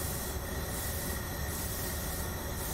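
A Santa Fe train in Train Simulator Classic, running too fast with its brakes applied, produces a loud continuous squeal of wheels on rail over a dense rumbling roar, with no voices.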